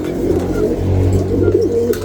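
Close, low, repeated cooing of a dove or pigeon, soft throaty calls over a faint background hum.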